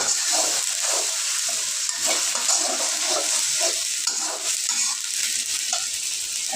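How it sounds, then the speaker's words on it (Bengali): Onion and ginger paste stirred in hot oil for a red beef bhuna curry, a continuous close sizzle with scraping, rhythmic stirring strokes, no voices. "আর এই যে পেঁয়াজ, আদা বাটা দিয়ে একটু নাড়াচাড়া দিয়ে নেব।"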